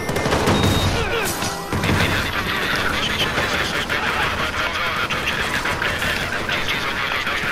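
Dense, continuous rapid gunfire with crashes and impacts, loud and chaotic throughout, in the video game Watch Dogs.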